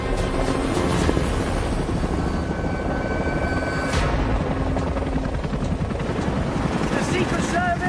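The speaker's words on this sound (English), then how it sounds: "This helicopter can only get me so far." A helicopter carrying the US president on a wilderness trip flies with a constant, loud rotor drone and whine throughout, close and steady with no break.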